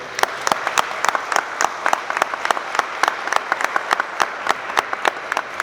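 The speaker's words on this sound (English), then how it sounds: "I think we should all give these coaches a round of applause as well" An audience at a middle school athletics banquet claps for the coaches, a dense, sustained round of applause with sharp individual claps standing out close by throughout.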